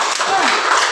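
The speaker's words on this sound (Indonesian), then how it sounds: "Beri tepuk tangan dulu." Pupils in a class clap together in a short, loud burst of applause at close range.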